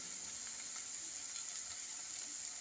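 Rui fish pieces frying in oil in a pan on low heat, a soft, even hiss and sizzle sustained throughout, fairly quiet and close, with no voices.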